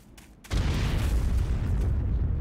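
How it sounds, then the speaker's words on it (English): A single loud explosion effect from Sonic 06 erupts suddenly after a quiet moment, then sustains as a dense, rumbling roar that carries on with no voices. "No explosion, by the way. There's just the sound of it."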